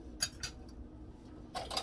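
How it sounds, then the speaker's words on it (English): A spoon scrapes and clinks against a bowl while folding dry ingredients into keto cheese muffin batter, a few short bright taps in two bursts over a quiet room hum. "So I'm just gonna use a spoon."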